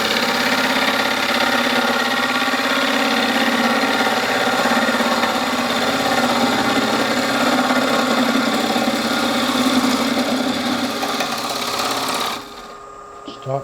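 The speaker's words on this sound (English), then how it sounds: "So now we just need to take about 1/2 inch off this out of the inside." A natural edge branch bowl being hollowed on a wood lathe, a steady loud scraping whir of the cutting tool against spinning wood that cuts off abruptly near the end.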